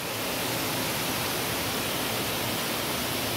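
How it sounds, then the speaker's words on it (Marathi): Rainwater pours down from above in a village downpour as a dense, unbroken wash of hissing noise with no pauses, loud and close. "असं वरनं पाणी पडतंय ते।"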